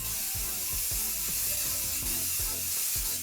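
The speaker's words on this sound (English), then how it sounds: "The Krylon fixing spray." Krylon fixing spray hisses from a can in a few short bursts at close range. The spritzes are soft and airy, with a rhythm of repeated quick presses and no talking.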